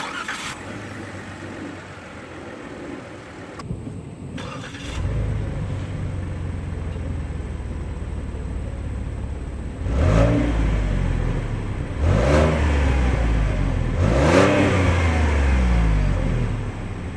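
A 2017 Ford Fusion Sport starts by push button. The engine fires up and settles into a steady idle, then gives three short revs a couple of seconds apart, loud and close from inside the cabin.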